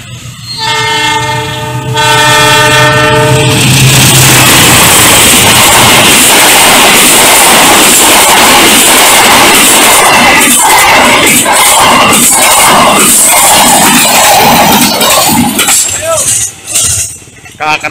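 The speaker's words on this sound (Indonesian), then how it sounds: "KA Kertajaya sedang melintas langsung stasiun Cipunegara." The Kertajaya train passes straight through Cipunegara station without stopping, opening with a loud multi-tone horn blast and then a long, roaring rush of wheels and carriages close by, dominating the scene.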